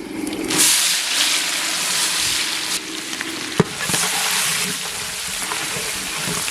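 Mustard seeds, curry leaves and chana dal frying in hot oil, a loud continuous sizzle and crackle with the odd spoon knock against the pan, close up and without talk.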